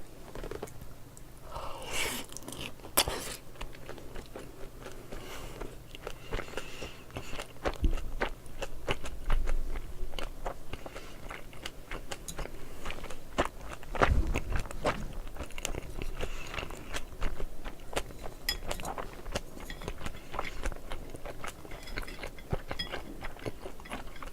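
Close chewing of bossam topped with kimchi, with crunchy bites, soft mastication and small scrapes continuing irregularly throughout at a fairly quiet level, with no talk.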